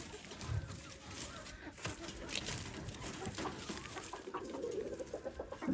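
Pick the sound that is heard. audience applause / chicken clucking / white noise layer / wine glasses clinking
chicken clucking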